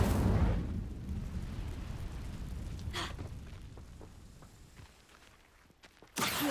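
Incendio fire spell cast in the video game Hogwarts Legacy, a loud whooshing, fiery rumble that bursts up at once, fades over several seconds, then flares again sharply near the end.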